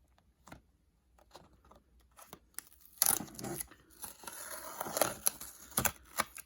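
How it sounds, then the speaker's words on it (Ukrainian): Masking tape being pulled and peeled away in short crackly bursts, with small rustles and handling noises in between; close and moderately loud, no talking. "Знімаємо малярний скотч."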